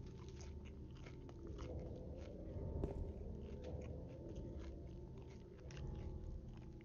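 Close, repeated crunchy bites and chewing of a Taco Bell crispy taco, crisp and textured, continuing in an uneven rhythm with no talking.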